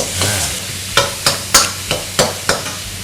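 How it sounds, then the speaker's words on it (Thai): Minced pork being stir-fried with holy basil in a hot pan over lowered heat, a bed of sizzling with six sharp, evenly spaced scraping strokes of the spatula, close up and loud. "คั่วเลยอันนี้ก็เรียกกะเพราคั่ว ลดไฟ ให้เบาลง หมูจะได้คลายน้ำออก"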